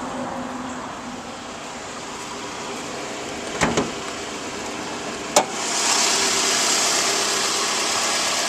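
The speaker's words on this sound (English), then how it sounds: "Engine sounds perfect. This is a VVT-i 16 valve 4-cylinder." A 2009 Toyota Camry's VVT-i 16-valve four-cylinder engine runs at a steady idle, a smooth even hum with a couple of brief clicks and a slight rise in hiss near the end.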